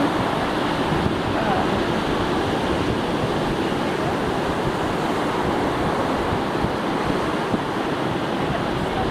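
Ocean surf washes steadily onto the shore, a dense, continuous roar with some wind noise on the microphone and no distinct breaks between waves.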